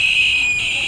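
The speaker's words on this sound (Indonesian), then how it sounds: "Ketika ada getaran dia akan aktif buzzer" A vibration-triggered electronic buzzer gives a single steady, piercing high tone for under a second, loud and close, with no talking over it.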